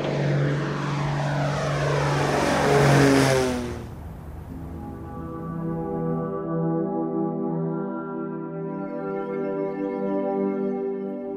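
Propeller aircraft engines running before takeoff, a loud roar that drops after a few seconds into a steady droning hum with clear harmonic tones, close and continuous.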